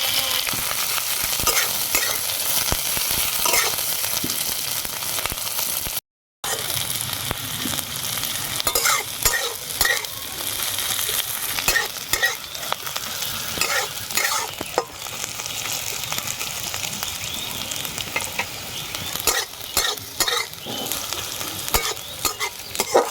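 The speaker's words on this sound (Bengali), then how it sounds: "এবার ওই তেলে দিয়ে দিচ্ছি পেঁয়াজ কুচি, দিয়ে দেবো দুটো লঙ্কা।" Chopped onion and two chillies frying in hot oil in a pan: a continuous close sizzle and crackle with occasional stirring scrapes, one brief silent gap, and no talking.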